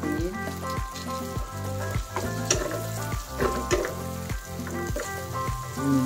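Pieces of fried tofu going into a hot frying pan for adobong kangkong, a steady close sizzle of oil with stirring and scraping clatters across the whole stretch.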